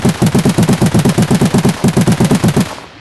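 Loud automatic gunfire from a video game rattles in rapid, evenly spaced bursts for about two and a half seconds, then cuts off abruptly.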